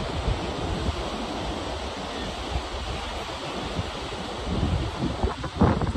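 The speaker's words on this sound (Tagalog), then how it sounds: "Dagat naman, sa dagat." Sea waves wash onto an Australian shore in a continuous broadband roar with wind buffeting the microphone, swelling louder toward the end as a larger wave breaks nearby.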